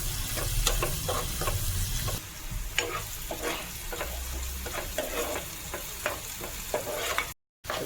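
Chopped onion and tomato frying in a pan for spicy Marathi mutton sukha, a constant hissing sizzle broken by repeated stirring scrapes and spoon clicks, close and fairly loud with no talking.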